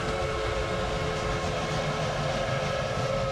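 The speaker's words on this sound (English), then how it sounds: "pistons pumping, wheels pounding the rails" Steam locomotive in the Railway Empire video game, a dense continuous rumble of pistons and wheels on rails with a sustained whistle-like tone, loud and unbroken throughout with no talk.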